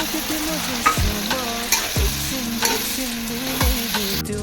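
Spice paste hitting frying pork in hot oil, a loud steady sizzle with sharp scraping stirs of a utensil against the pan roughly every second, close up with no talking.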